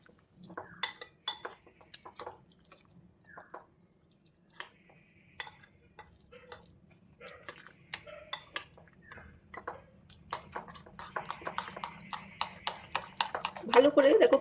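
A spoon knocks and scrapes against a bowl while watered-down rice batter for cup pitha is mixed, giving quick irregular clinks that grow busier and louder toward the end, with faint background hum.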